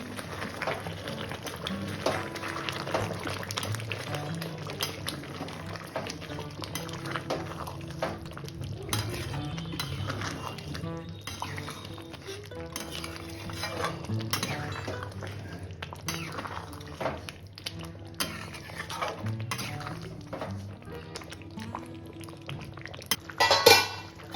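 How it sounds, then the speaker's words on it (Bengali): Cashews and onions are stirred in a pan over a low flame. A spoon repeatedly scrapes and clinks against the metal pan above a soft, continuous sizzle, and a louder clatter comes near the end. "এইভাবে মাঝে মাঝে করে কিন্তু নাড়তে হবে আর পুরোটাই হবে লো ফ্লেমে"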